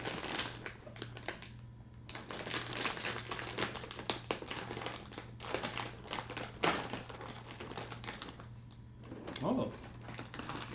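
Silver cereal packaging crinkles and rustles in a close, dense flurry of crackling as it is pulled open, with a brief spoken comment partway through.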